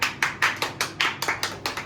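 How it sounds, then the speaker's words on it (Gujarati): People at a final match gathering clap their hands in applause, about a dozen sharp, evenly spaced claps in a brisk rhythm, close and without speech. "હવે એને તાળીઓનો સન્માન આલ દો"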